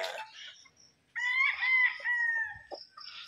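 Stag roosters crow in a string of loud, close calls, one cock-a-doodle-doo following another with brief gaps and short clucks between them.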